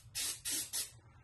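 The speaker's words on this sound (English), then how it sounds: "I will grab a piece of shop towel and then spray" Carbon cleaner sprayed from an aerosol can onto a shop towel during Honda VTEC engine repair: three short, close hissing bursts in quick succession, no talk.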